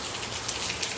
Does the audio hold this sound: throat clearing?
no